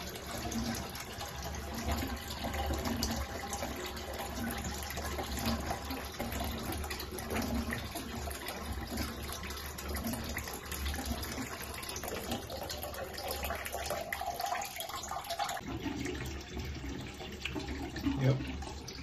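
Water rushing steadily through a Navien tankless water heater during a reverse flush done without a pump, a continuous gushing hiss into a container that shifts in tone near the end, with an occasional faint voice.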